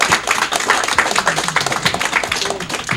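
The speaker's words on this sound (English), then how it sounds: "Yes, you can clap for that." Audience clapping at a live speedrun marathon event, a dense, steady burst of applause from a crowd lasting throughout, with scattered individual claps and a faint voice mixed in.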